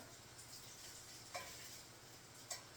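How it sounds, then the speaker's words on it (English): Bacon frying in a pan for a breakfast cook, a faint steady sizzle throughout with two brief louder clicks or taps, no talking. "I got the bacon cooking down pretty good in the neighborhood"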